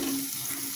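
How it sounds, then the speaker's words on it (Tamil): Handful of shallots sautéing in hot oil for chickpea kulambu, a brief steady sizzle with a low hum underneath, close and fairly quiet, no talking. "ஒன்று ரெண்டாக ஒரு கைப்பிடி அளவு வெங்காயத்தை போட்டு வதக்கிக்கோங்க"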